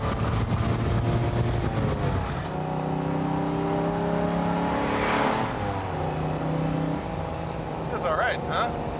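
Loud, close engine note of a 1955 Mercedes-Benz 300SL pulling through the gears, pitch climbing and dropping at shifts, with a rushing whoosh midway and voices speaking over the drive near the end.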